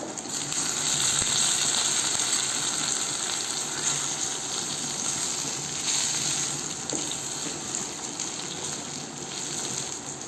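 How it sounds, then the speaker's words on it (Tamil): Chopped ivy gourd goes into a pan of hot oil with browned onions and sets off a loud, continuous frying sizzle that holds steady throughout. "இப்போ இது கூட நறுக்கி வச்சுருக்க கோவாக்காயும் ஆட் பண்ணிக்கலாம்"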